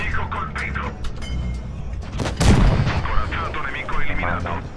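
A Progetto 65 tank cannon fires in World of Tanks Blitz, a single loud boom midway through game gunfire and battle noise, while someone talks throughout.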